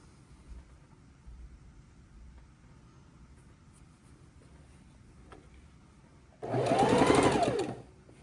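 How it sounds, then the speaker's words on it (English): Sewing machine chain stitching quilt patches, a close, fast mechanical whir running for about a second and a half after quiet background room noise, with no talking. "And I'm chain stitching these 4 patches, block after block after block."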